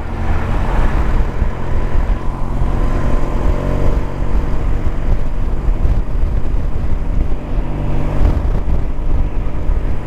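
A steady, loud rush of engine drone and wind noise from a BMW R1200CLC boxer-engine touring motorcycle cruising at about 75 mph and just over 3,000 rpm, continuous throughout with no talk.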